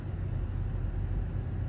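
A car engine runs with a constant low rumble, heard from inside the vehicle, steady and unbroken with no voices.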